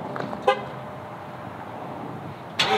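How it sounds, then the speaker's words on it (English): A pickup truck's horn chirps twice during a remote start, one short honk near the start and another near the end, over a low steady idle at a horse property. "I just gotta talk to my truck. Truck, start up."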